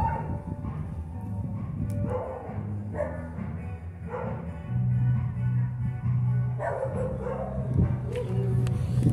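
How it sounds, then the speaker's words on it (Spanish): Dogs bark and yip outside a reputedly haunted house in Saltillo, with scattered barks at moderate distance and a droning hum in the background, no clear speech. "ya los perros empezaron a alterar"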